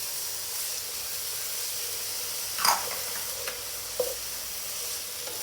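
Vegetarian dok khajon (Thai flower buds) stir-frying in a wok with soy sauce: a steady hiss of sizzling, with a few sharp spatula scrapes and clinks standing out near the middle, close and alone.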